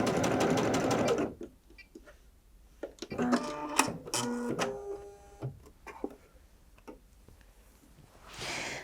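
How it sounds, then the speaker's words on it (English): A Bernette b77 sewing machine stitches stretchy fabric in a short loud burst, followed by quieter mechanical clicks, ticks and whirring as the machine and fabric are handled. "Pop your fabric underneath, and that helps to deal with not overstretching the fabric when we're feeding it through the machine."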